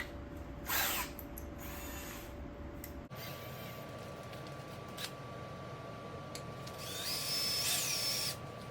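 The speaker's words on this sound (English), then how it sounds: "I would like to go with a smaller drill. Let's make a pilot hole." A small power drill whirs steadily, boring a pilot hole during a Toyota MR2 SW20 radiator replacement, with a shift in pitch partway through and a rising whine near the end as it bites through material.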